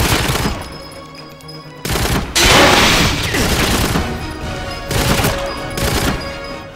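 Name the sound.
shooting a fire extinguisher in a video game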